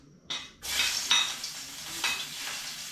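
Onion dropping into a hot pan and frying, with a sudden loud sizzle that settles into a steady hiss, broken by a couple of scraping stirs and utensil clinks close by.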